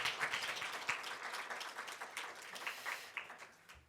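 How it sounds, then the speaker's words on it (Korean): Church congregation applauding during a Sunday worship service as flowers and gifts are presented, dense scattered clapping filling the room at moderate volume, rising and falling in small swells without any voices over it. "다시 한번 뜨겁게 박수로."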